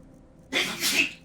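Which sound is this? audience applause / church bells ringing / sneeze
sneeze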